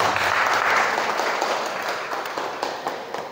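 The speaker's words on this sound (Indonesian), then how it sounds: "berikan tepuk tangan kita untuk Indonesia dan untuk kita" An audience claps at an indoor healing and motivation day event held by a vocational center in Bogor. The dense, close applause is loud at first and gradually tapers off.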